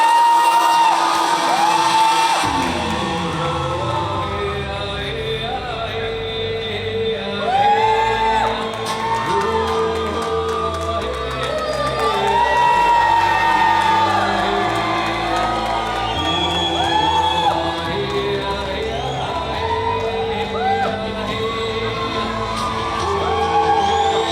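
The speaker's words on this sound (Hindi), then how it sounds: "जोरदार तालियां." A large crowd cheers, whoops and shouts continuously as teachers do a ramp walk at an Ayurveda event in Rishikesh, with a loud, steady roar of voices and music-like tones running underneath for the whole stretch.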